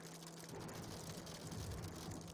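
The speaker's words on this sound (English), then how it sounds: "Oh, hail." Hail pelting an aircraft in the X-Plane flight simulator during a thunderstorm, a dense, steady rattling patter against the airframe that stays loud and even throughout with a low rumble underneath.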